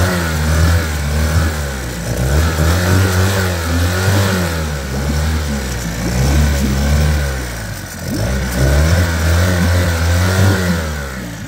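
Mariner 9.9 four-stroke outboard motor with water-cooled exhaust revving up from idle, loud and close, its throttle rising and falling in several waves.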